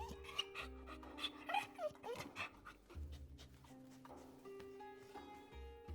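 A large jackal pants steadily at close range, quick rhythmic breaths with a soft whine, over a faint low musical hum.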